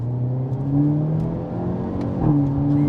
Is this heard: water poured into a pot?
no